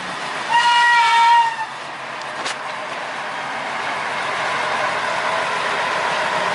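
An amphibious sugarcane-railway locomotive crosses a flooded level crossing in the Turi area, sounding a loud, steady horn blast for about a second, then a continuous rumble of the passing train that builds slightly and holds to the end.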